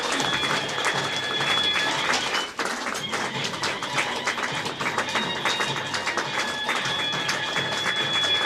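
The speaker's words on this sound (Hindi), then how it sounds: "जोरदार तालियां हो जाए एक बार।" Dense, sustained audience applause fills a Mahashivratri celebration hall at Brahma Kumaris in Baner, steady and loud throughout with a brief dip partway before the clapping surges on.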